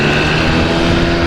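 A 1998 Honda Tacty 50 scooter engine runs loud and close with a steady buzzing drone, heard alone.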